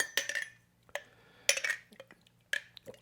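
A metal spoon clinks against dishes while sweet and sour dipping sauce is tasted, three separate bright clatters about a second apart, close and fairly quiet with no talking.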